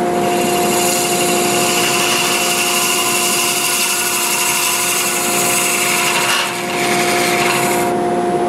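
Steady, loud wood lathe turning a wet maple hollow form, a continuous whir with fixed motor tones and a rough scraping, rasping cut running throughout, briefly easing near the end without any talk.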